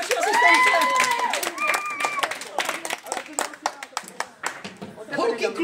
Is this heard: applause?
yes